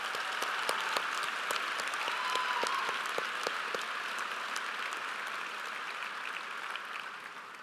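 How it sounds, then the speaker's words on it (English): Steady applause fills a large hall at a bachelor's graduation ceremony, with many hands clapping continuously, moderately distant and even throughout, and a faint crowd murmur beneath. "big round of applause"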